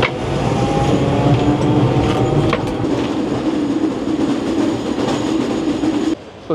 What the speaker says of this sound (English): I just got a tram to close to where I'm based.